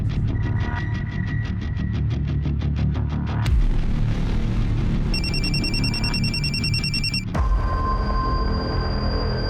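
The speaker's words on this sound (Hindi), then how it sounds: "किसका फोन है?" A telephone rings with rapid repeated trills, then a second electronic ring tone chimes in, all over a steady rumbling background.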